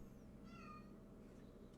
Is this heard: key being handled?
no